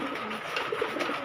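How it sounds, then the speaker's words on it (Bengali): Male pigeons, a golden and a kalshira, giving a soft brief coo, faint and close in a short stretch with no talk. "দুইটাই নর কবুতর।"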